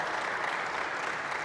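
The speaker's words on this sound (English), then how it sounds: "Everybody, please give the panel a big round of applause." An audience at a building-industry summit claps for a panel on stage, a brief, steady wash of many hands at moderate distance with no voices over it.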